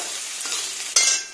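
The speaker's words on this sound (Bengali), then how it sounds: "কুচি করে রাখা পেঁয়াজটা দিয়ে দিলাম" Chopped onions fry in hot oil with a steady close sizzle, a brief scrape of stirring, then a sharp fresh burst of hissing near the end.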